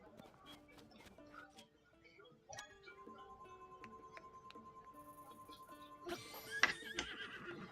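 A horse whinnies loudly near the end in Zelda: Tears of the Kingdom, rising over steady game music and scattered electronic effects.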